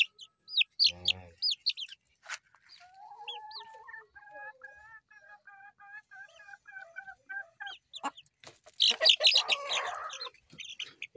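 Chickens, a hen and rooster cross, give a series of short clucks and chirps up close, followed by a longer run of steady, drawn-out calls and then a burst of busier, overlapping squawks and rustling.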